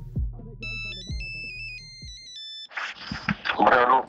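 A phone ringtone plays for an incoming call on the Telegram app, a repeating synthetic melody of rising and falling tones lasting a few seconds before a voice answers and talk follows over a poor connection.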